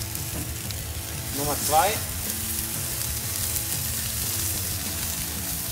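Burger patties laid on a grill at full heat, a loud sustained sizzle with crackling throughout, while someone speaks briefly over it.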